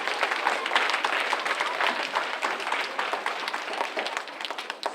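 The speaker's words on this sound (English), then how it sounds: "That deserves a round of applause." Students in a school gathering applaud enthusiastically: dense, sustained clapping from a sizeable crowd, loud and steady across the whole stretch with scattered sharper claps, easing slightly toward the end.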